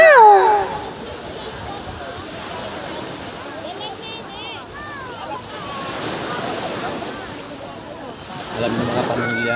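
Sea waves washing onto a beach resort shore in Morong, Bataan, a steady broad surf roar with wind noise, voices talking over it near the start.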